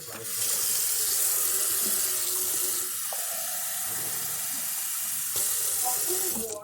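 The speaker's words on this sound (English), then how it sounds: "I'm just going to add about a half a cup of water to it." Steady stream of about half a cup of water pouring and splashing into a cooking pot, continuous and close for several seconds, with faint kitchen sizzling beneath.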